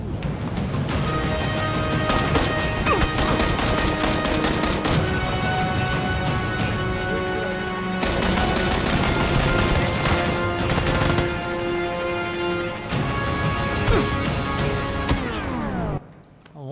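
Rapid gunfire from a first-person shooter game, dense bursts of shots that run almost continuously over game music and effects, loud and close, cutting off near the end.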